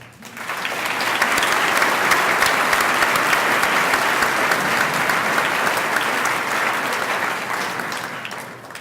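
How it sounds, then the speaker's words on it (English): A high-school commencement audience gives a round of applause in an indoor hall, steady dense clapping that holds for several seconds at full strength before trailing off slightly at the end, with no talking. "Let's honor these important people, as we just have, with a round of applause."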